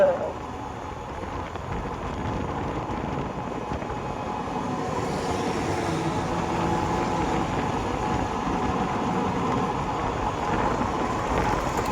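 Steady rain pours down in a constant dense hiss, with a low rumble underneath throughout.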